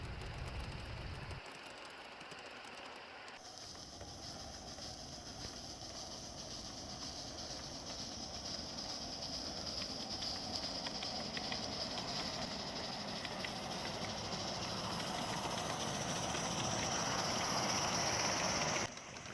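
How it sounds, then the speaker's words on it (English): G scale live steam locomotive working hard uphill on an outdoor garden railway, a steady chuffing hiss and rumble that grows slightly louder over the stretch, no talking. "It's great to hear the engine working hard up this hill."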